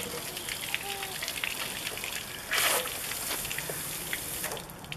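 Water spraying against the inside walls of an Aliner camper's fresh water tank, a steady hissing patter with a brief louder gush partway through, moderately close and fairly quiet.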